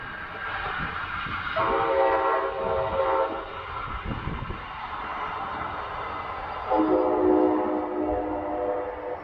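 A southbound Brightline passenger train passes through Brevard County, its horn sounding in long steady blasts twice over a continuous rumble of rolling cars, loud and close.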